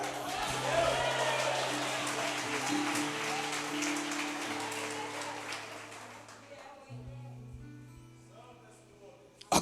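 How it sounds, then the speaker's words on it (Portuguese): A church congregation claps during a worship service while sustained keyboard-like chords and voices carry beneath, the applause loud at first and gradually thinning out over about six seconds until mostly music remains. "Quem crê, aplauda Ele."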